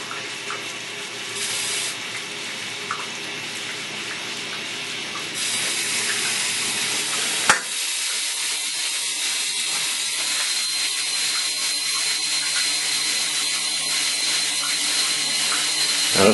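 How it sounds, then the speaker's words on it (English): Water rushes steadily into the drum of an overloaded Maytag Centennial washing machine, a continuous hissing flow that grows louder after a click partway through. "Now it's adding water."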